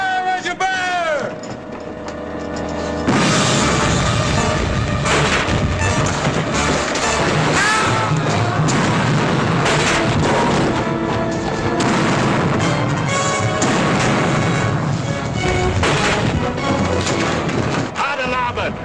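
A sailing ship's cannons fire a broadside in a 1952 film, heavy booms erupting one after another over a roaring battle din, with shouted commands before the volley.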